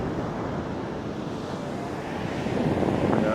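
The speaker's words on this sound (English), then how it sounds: "Atlantic Ocean" Atlantic Ocean surf and strong wind at Sandwich Harbour, Namibia, where desert dunes meet the sea: a continuous loud rushing wash with gusty wind buffeting the microphone, swelling slightly toward the end.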